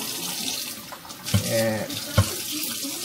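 Stainless steel cookware is washed under a running kitchen tap, with a steady stream of water splashing into the sink and a couple of sharper clatters of the pans; a brief word is spoken.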